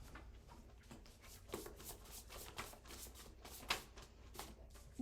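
A deck of playing cards being shuffled, soft rapid riffling bursts repeating in a quiet room at close range, with a few sharper snaps and taps as the cards are handled.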